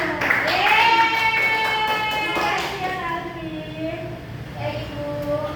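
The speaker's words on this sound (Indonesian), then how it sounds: "tepuk tangan dulu" Children in a classroom clap their hands together during a lesson, a run of sharp claps under loud voices that ring out in long sustained tones.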